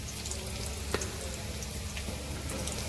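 Curry leaves and chopped garlic frying in hot oil with onions for Kathiawadi dahi tikhari, a steady low sizzle throughout with a faint clink or two and a sharper crackle at the end.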